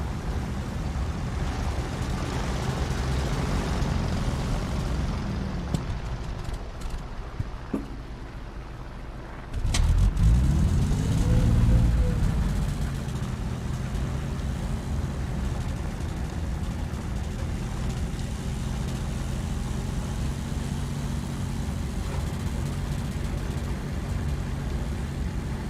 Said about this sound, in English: It's as if the engine is trying to kill itself, puttering along.